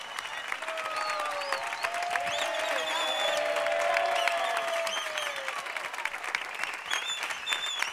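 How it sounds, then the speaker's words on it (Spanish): An audience at a town fair concert applauds the Asociación Musical Silverio Campos band, a full, steady wave of clapping and some cheers, with a voice over the top. "ese fuerte aplauso es para ellos, para la Asociación Musical Silverio Campos"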